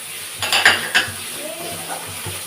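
Ground cumin, coriander, chilli and turmeric powders being stirred into ginger-garlic paste in a pan for a Bengali katla fish curry, giving a few soft scraping clinks of utensil on metal over a faint low sizzle.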